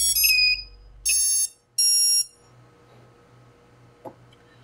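A TBS Vendetta quadcopter's ESCs sound bright, loud electronic startup beep tones in three quick bursts on power-up, followed by a quiet hum and a faint click.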